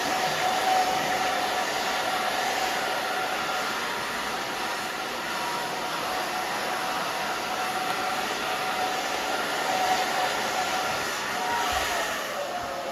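A hair dryer runs steadily and loudly throughout, a continuous broadband whoosh with no pauses while a brush works through short edgy hair that is about 80% dry.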